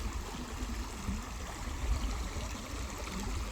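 Creek water flows and trickles steadily over rocks and sand, a continuous close-up babbling wash with no voices over it.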